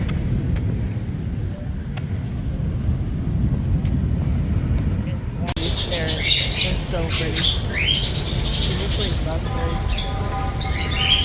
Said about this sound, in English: Big box full of parrots, parakeets, whatever you want to call them